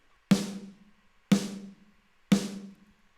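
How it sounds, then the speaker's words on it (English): Generic digital snare drum sample with no processing, struck three times at a steady one-second spacing, each hit sharp and bright with a short decaying tail and silence between. "It's a generic digital sample sounding snare drum."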